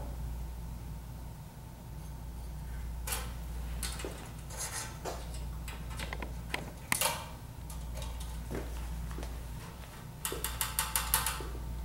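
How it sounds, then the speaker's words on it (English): A bulb being fitted back into a dental operatory lamp, a series of small clicks, taps and ratcheting plastic-and-metal rattles over a steady low hum, close by and with no voices. "We're going to reinsert our bulb."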